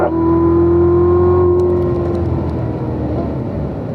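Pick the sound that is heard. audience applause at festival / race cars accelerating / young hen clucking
race cars accelerating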